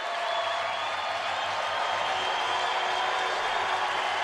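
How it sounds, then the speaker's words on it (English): Football stadium crowd at a 2009 Cal Poly versus North Dakota game swelling on third and long, a steady broad roar held at even loudness throughout, with a low hum underneath. "Crowd gets loud on 3rd and long."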